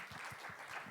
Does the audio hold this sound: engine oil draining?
no